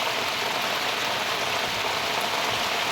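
Rain pours down over farmland in a constant, unbroken hiss, fairly loud and alone, with no speech.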